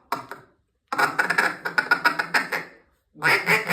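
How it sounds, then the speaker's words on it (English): A duck call blown in rapid ticka-tuka feeding chatter, a fast run of clipped quacking notes in quick bursts separated by short pauses, loud and close with no voices. "just go ticka-tuka, ticka-tuka, ticka-tuka"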